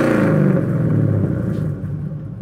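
Supercharged 725 hp LS9 V8 in a 1971 Camaro restomod: a loud, deep engine rumble close by that holds steady, then eases and fades slightly as the revs drop off.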